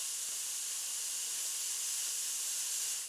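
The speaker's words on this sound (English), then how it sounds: "then we're going to spray the gills" A steady, soft hiss of a paint sprayer runs continuously, close by, then cuts off at the end.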